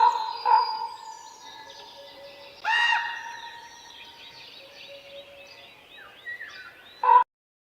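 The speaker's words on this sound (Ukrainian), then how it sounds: "Так, співає ворона." A crow's harsh calls ring out in a few separate bursts, with quieter chirps and warbling between them, moderately near and outdoors.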